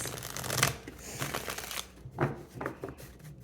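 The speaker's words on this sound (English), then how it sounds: "So I'm going to shuffle a couple of times" Tarot cards being shuffled up close, a few quick riffling bursts with soft papery rustles between them, no talking.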